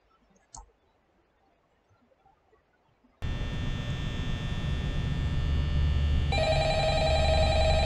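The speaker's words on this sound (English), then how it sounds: "Alright, phone ringing." Telephone ringing in the horror video game Five Nights at Freddy's, set in a pizzeria security office at night: after a quiet stretch the ring starts abruptly and continues loud and steady over a humming background.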